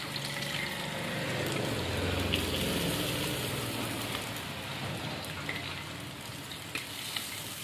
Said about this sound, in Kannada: ಮಳೆ ಬರಾಕತ್ತದ ನೋಡ್ರಿ ಫ್ರೆಂಡ್ಸ್ ನಮ್ಮ ಕಡೆ